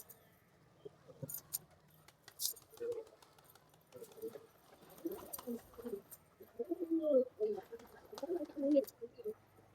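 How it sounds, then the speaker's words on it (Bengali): Rock pigeon cooing at close range: soft, low, rounded coos in short bursts, growing busier toward the end, over quiet background with faint clicks and scattered light sounds. "আর এই যে গোলা পায়রাটাও আবার চলে এসছে"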